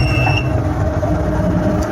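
A mini injection molding machine begins its automatic cycle with a loud, steady low mechanical rumble and hum, joined by a few faint higher tones early on, running continuously throughout.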